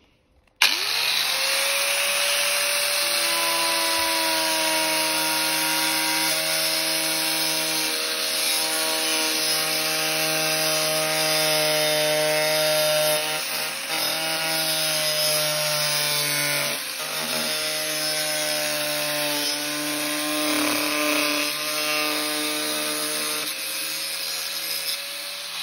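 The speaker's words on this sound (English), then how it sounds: "now my dad is going to cut the pipe with the angle grinder." An angle grinder whines at a high pitch as it cuts through metal pipe, a sustained harsh grinding screech with shifting tones, running for a long stretch.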